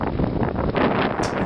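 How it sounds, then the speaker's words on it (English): Strong wind on a snowy mountain summit, with 45 to 55 mile an hour gusts buffeting the microphone as loud, roaring, uneven blasts throughout the short span. "when we said it was windy, we mean real windy"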